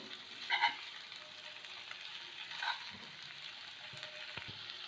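A faint, steady sizzle comes from a pan of egg pepper fry left to dry out, with a couple of brief clinks near the start.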